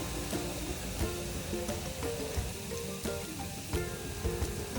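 Vegetables roast and sizzle in hot oil for a traditional Bhogi bhaji, cooked until the oil separates; a steady, close crackling hiss with scattered sharper pops, with no voices.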